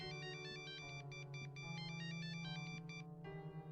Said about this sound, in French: le portable de Jérôme résonne dans la nuit